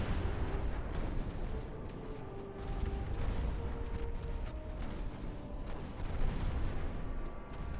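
A rumbling barrage of 6-inch naval guns fires in a naval warship battle from Ultimate Admiral: Dreadnoughts, with dense continuous booms and gunfire layered over a steady roar.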